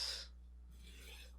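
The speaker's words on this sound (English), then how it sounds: "I will be using that leather strop to take extra burrs" A Japanese kitchen knife is drawn once across a leather strop, making a single short, soft rasping swipe at the start, followed by near silence.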